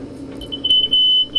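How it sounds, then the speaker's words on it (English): A small electronic buzzer in a homemade radiant-energy test circuit gives a short, steady high-pitched tone lasting about half a second, loud and alone over low background hum. "So that's the little buzzer again."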